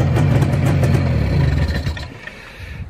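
A Jawa 638 motorcycle engine runs close by, giving a loud, throbbing mechanical sound with a rapid pulsing rhythm that eases and fades toward the end.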